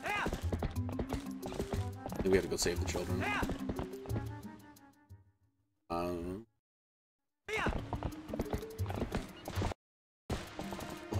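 Horse hooves clip-clop in a video game as the rider chases after someone, a quick rhythmic clatter mixed with game sounds and a brief whinny, cut by abrupt silent gaps, while a voice talks over part of it.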